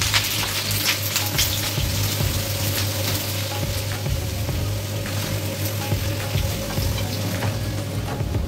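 Potato pieces fry in a pan for Bengali aloo bhaji, giving a loud, dense, steady sizzle that carries on without a break the whole way through, with no voices.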